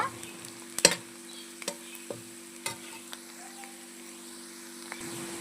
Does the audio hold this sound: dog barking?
no